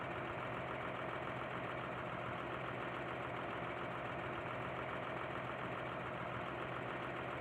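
A modded tractor engine idles in the video game Farming Simulator 19, a steady, even rumbling drone that holds constant and unbroken throughout.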